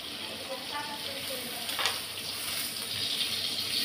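Tomato sautés in a hot pan with a bright, continuous sizzle up close, a brief stirring scrape near the middle and no speech.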